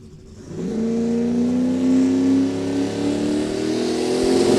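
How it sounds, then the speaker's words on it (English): LS-powered single-turbo Chevrolet Nova launching on a drag strip pass, its engine rising into a loud, sustained climbing roar as it accelerates away. "Jason Sack in the LS single turbo Nova. Looking for a low 7-second pass."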